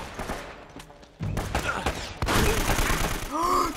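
Shotgun blasts and gunfire boom in a chaotic firefight in the video game Uncharted: Drake's Fortune, several loud reports in quick succession amid game noise and a voice.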